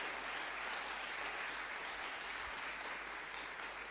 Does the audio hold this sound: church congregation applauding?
yes